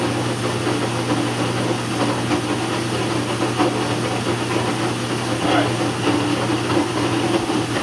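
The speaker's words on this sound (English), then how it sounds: "That sound you hear is the beating." Beater roll knocking against the bed plate of a paper-making beater as fibers are beaten, a steady loud mechanical rumble and grinding drone with faint irregular knocks, no voices.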